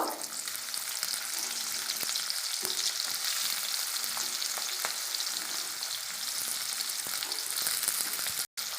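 Onions fry in hot oil with cumin, a dense continuous sizzle with light crackles and faint stirring, close and steady throughout.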